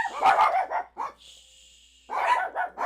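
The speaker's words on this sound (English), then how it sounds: "No muting, we love the dog." A dog barks in a quick cluster of loud, close yips and woofs, falls silent except for a faint high whine, then fires off another burst of barks.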